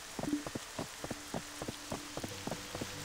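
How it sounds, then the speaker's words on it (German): Rain patters in the video game Black Desert, steady light drops tapping a surface with irregular louder drips, no voices. "Und der Regen wird heftiger."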